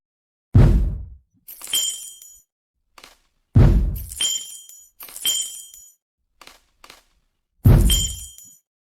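Game sound effects for picking up and dropping items, a series of sharp clinking, glassy knocks and thuds spaced out irregularly, close and moderately loud with no voices.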